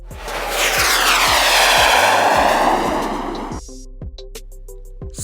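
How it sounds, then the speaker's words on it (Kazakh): A rocket roars past loudly, its engine noise swelling to a peak and sweeping down in pitch as it fades, followed by a few quieter tonal sounds. "Ракета."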